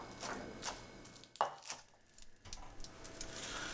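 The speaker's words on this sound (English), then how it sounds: "I'm going to slice a couple of scallions on an extreme bias" A knife slicing scallions on an extreme bias against a cutting board: a few distinct chopping knocks, with a sharp clack near the middle, then a brief lull and softer rustling, close and without speech.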